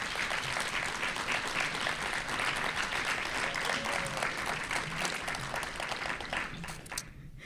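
Audience at a school district address giving a sustained round of applause, a dense even wash of clapping that fades slightly toward the end.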